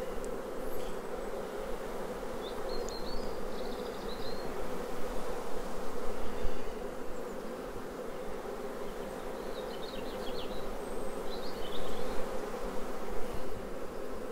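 Honeybees hum steadily from an open beehive as frames are lifted out and inspected, a dense, continuous close-up drone with no voices.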